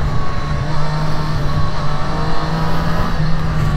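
Triumph Street Triple 765 RS (2023) motorcycle engine while riding in rider mode, a steady loud drone with a sustained low hum and whine, no clear revving, heard up close throughout.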